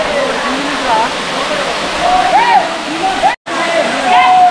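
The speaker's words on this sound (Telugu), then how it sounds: "పైనుంచి జారే వాటర్ ఫాల్ ఎలా ఉంది?" The Gandhari waterfall near Medaram cascades from above with a steady, dense roar of rushing water, loud and continuous with one brief dropout, while a few faint voice-like tones rise over it.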